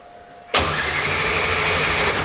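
A freshly rebuilt Ford Mustang engine cranks and catches abruptly, then settles into a loud, steady, close-up idle rumble.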